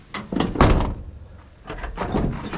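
A car door on a vehicle with about 110,000 miles on it, which may not be fully attached, shuts with a heavy thunk. A second, softer knock follows about a second later.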